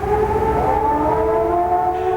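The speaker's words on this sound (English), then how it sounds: "air raid sirens wailed over Baghdad" An air raid siren wails over Baghdad during the Iraq war, a loud sustained droning tone with slowly shifting pitch and no other sound.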